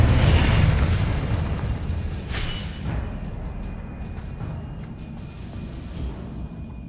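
A Confringo blast spell from the Hogwarts Legacy video game, a loud low boom right at the start that decays into a rumbling tail, with brief sharp crackles and pops scattered afterward.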